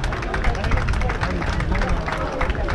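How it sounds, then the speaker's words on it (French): A crowd at a 10 km road race in Brittany claps for the winner, dense rapid clapping mixed with chatter and babble close around. "On peut l'applaudir bien fort"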